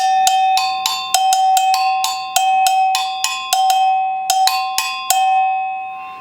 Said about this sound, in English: this is called the go-go bell